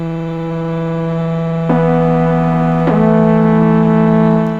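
A Motorsynth Mk2 synthesizer with its electric-motor voice blended in drones as a steady buzzy tone rich in harmonics, stepping to new pitches twice with slight detuned chorusing, loud and close, no talk.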